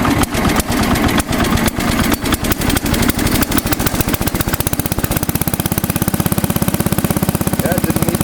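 A Massey Ferguson 10 tractor engine runs steadily up close, with a loud, fast regular putter that evens into a smooth idle after a rougher start.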